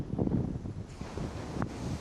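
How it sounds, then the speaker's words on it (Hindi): Waves wash in and roll back along a sandy beach, accompanied by steady wind rumbling across the microphone; no voices are heard. "यहाँ मस्त लहरें हैं यार"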